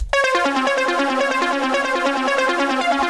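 A bright synth pluck arpeggio from an arpeggiator ripples in fast, even steps, loud and continuous, with a thick bass layer underneath.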